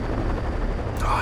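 Gunfire in the video game Skies of Arcadia, a dense, loud burst of blasts sounding continuously and close, with a brighter hiss near the end.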